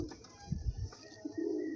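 Andhra breed pigeons in a pigeon house give soft, low cooing with a few throaty pulses and a longer coo near the end, faint against background hiss.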